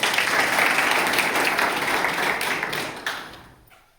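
A school audience claps loudly and steadily for visiting guests at a school gathering, the dense applause holding for about three seconds before thinning and fading out.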